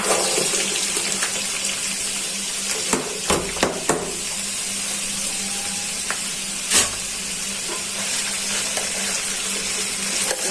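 Potatoes sizzle in hot oil with fried onions and bitter gourd, a steady hiss broken by a few sharp clinks and knocks of a utensil against the pan.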